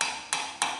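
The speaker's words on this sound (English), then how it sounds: "Take a hammer." A hammer taps lightly three times at an even pace, driving a small part into a hole, each tap a crisp, close, faint click in a quiet room.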